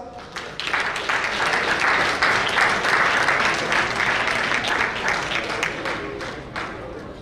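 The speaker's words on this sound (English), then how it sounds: "your big round of applause" Banquet audience at an awards night gives a big round of applause, a thick sustained roar of many hands clapping that swells, holds steady for several seconds, then thins toward the end.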